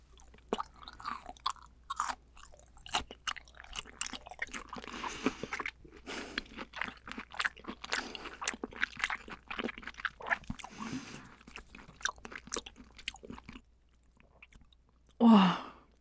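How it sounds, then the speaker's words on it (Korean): Close, wet chewing of raw yellowtail belly sashimi dipped in ssamjang, soft repeated bites and mouth sounds running steadily for most of the stretch, then a brief louder burst near the end, with no speech. "자, 이번에 본격적으로 도로살 한번 먹어볼게요"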